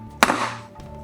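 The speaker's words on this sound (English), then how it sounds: "I'm just gonna give it a couple slams." A cake pan filled with batter is slammed once onto a kitchen counter, a single close, hollow thunk that rings out briefly before fading.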